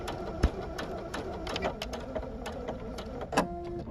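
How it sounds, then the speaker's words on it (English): Bernette sewing machine stitching an automatic tie-off knot, a steady close mechanical whir with a few sharper ticks and clacks, no talking over it. "I have an automatic tie-off stitch right here that will tie a knot"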